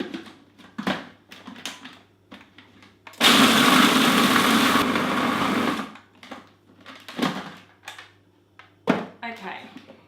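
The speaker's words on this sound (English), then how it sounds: "we're going to give that a good old blitz and our crumb will be done" A food processor blitzes a cocoa cheesecake crumb made with cocoa powder, a loud, steady whirring burst of about three seconds between stretches of quieter kitchen sounds and talk.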